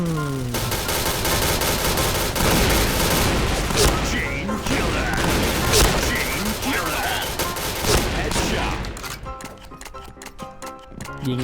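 Dense, continuous gunfire from the Thai-server Point Blank shooter game rattles throughout, with busy overlapping shots and effects and some voice mixed in, thinning toward the end into sharper separate bursts.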